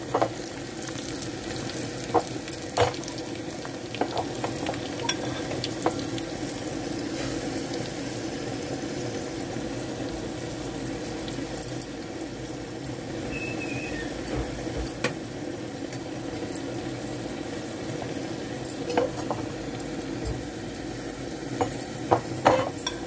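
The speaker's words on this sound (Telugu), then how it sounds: "ఎండుమిర్చి కూడా వేగిపోయినాయండి." Dried red chillies and tempering spices fry steadily in hot oil for a tamarind-leaf dal, giving a continuous close sizzle with scattered crackles and pops and a few clinks of a stirring spoon.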